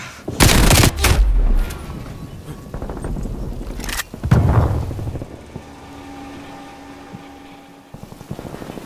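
Gunfire bursts in the video game Call of Duty Black Ops Cold War, with loud close volleys near the start and another burst midway, followed by quieter background game noise and a steady tone.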